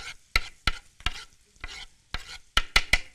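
Food is stirred and scraped in a frying pan with a soft sizzle. Crisp clacks of a utensil against the pan come in irregular bursts, and no one talks.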